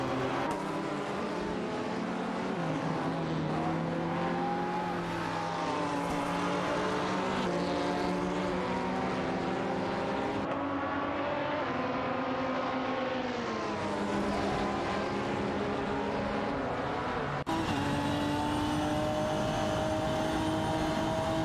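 Race cars in a racing video game, a Porsche 718 Cayman duelling a Panoz, with steady loud engine drone and shifting pitch as they run close together, no talk, a brief cut near the end.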